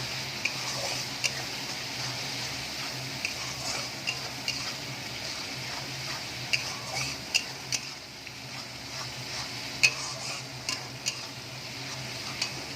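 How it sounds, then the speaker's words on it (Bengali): Cumin and coriander powder being stirred into a curry for chicken kofta, a soft steady scraping with faint sizzling and scattered light taps of the spoon against the pan, fairly quiet, no voices. "ভালো করে নাড়াচাড়া করব।"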